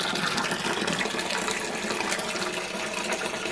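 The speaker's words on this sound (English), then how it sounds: "we're now just going to fill up from the receiving bucket into the boiler" Water gushes steadily from a receiving bucket into a home-brewing boiler, a continuous splashing, rushing pour heard up close with no talk over it.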